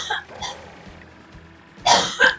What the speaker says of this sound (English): my sister's having a coughing fit